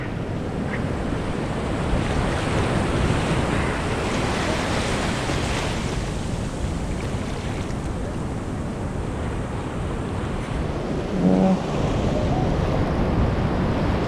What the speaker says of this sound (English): These waves are never going to stop.